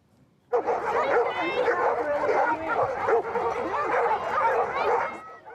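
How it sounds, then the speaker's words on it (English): A crowd of golden retrievers at a breed anniversary gathering barks, yips and whimpers over one another in a continuous, loud chorus that starts abruptly and continues throughout. "It's been 155 years since golden retrievers were first bred in the Scottish Highlands."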